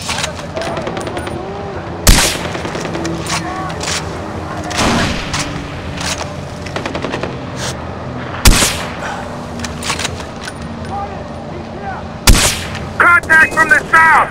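Gunfire in the Far Cry 4 video game, with sharp loud shots cracking out at irregular moments over a constant rumbling backdrop of battle noise and a rapid burst of fire at the end.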